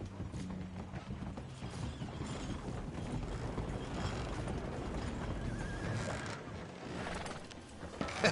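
A horse whinnies while hooves clip-clop close by over a steady mechanical rattle, with no one talking.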